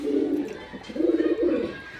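Pigeons coo in soft, low, rolling phrases close by, a few repeated throaty calls with a brief pause between them.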